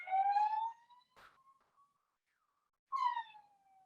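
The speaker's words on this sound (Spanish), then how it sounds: "Alejandro, voy a ir a cerrar la ventana porque está la sirena, se escucha" Emergency siren heard outside a window, wailing in two separate falling tones with a quiet pause between them, moderately loud and with nobody speaking.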